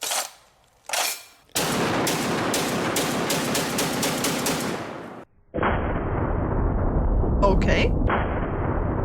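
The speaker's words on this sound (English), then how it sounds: "I think the best way to check the function of this gun is by doing a mag dump." A Barrett .50 caliber rifle fires a rapid string of heavy shots close up, one booming report after another in a fast mag dump, followed by rumbling noise after the firing stops.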